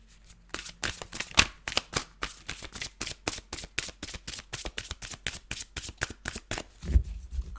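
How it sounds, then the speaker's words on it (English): Tarot cards being shuffled in quick riffled bursts, a long run of crisp, close flutters and taps in an irregular rhythm, with no talking. "Cards are taking a little bit of time to come out"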